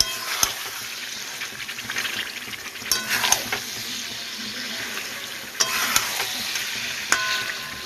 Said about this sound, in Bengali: মাংস রান্না হচ্ছে বন্ধুরা